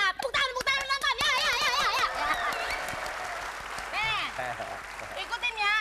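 A studio audience on a Ramadan TV comedy show claps amid whoops, cheering and lively shouting voices, the noisy mix staying loud throughout.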